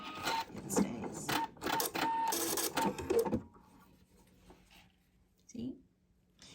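A sewing machine runs zigzag stitches along bra strapping, a rapid rattling burst of a few seconds that then stops, followed by quiet handling noises.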